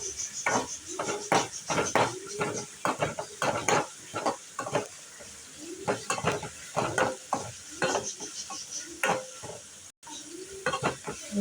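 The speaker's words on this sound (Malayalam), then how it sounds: "നല്ലോണം വഴറ്റി കൊടുക്കാം" Onions sautéing in a pan for a beetroot curry, with repeated scraping and clattering strokes of a spoon stirring through a soft continuous sizzle, the stirring rhythm loud and close throughout.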